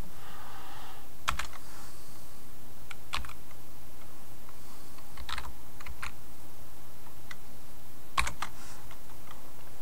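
Typing on a computer keyboard while building an HTML and CSS website: sparse, crisp key clicks in small scattered clusters over a faint steady hum.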